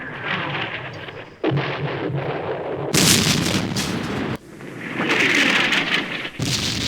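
Artillery fire in the Campaign Series Middle East war game, set in the Arab-Israeli War: loud, heavy rumbling booms in several long overlapping bursts, with sudden onsets and crashing peaks, and no talking.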